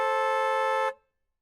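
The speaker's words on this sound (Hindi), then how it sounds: "इतने ऊंचे हॉर्न मेरी गली में" A loud, steady car horn blares in a residential lane, held for almost a second before cutting off sharply, leaving silence behind.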